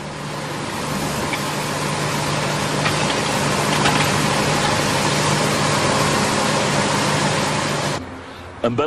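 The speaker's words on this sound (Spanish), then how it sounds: "La máquina gigantesca revuelve los montones desde los lados hacia el centro y desde el centro hacia los lados" A giant machine turning compost heaps, mixing the piles from the sides to the centre, gives a steady, loud mechanical rumble and whir that runs unbroken before cutting off near the end.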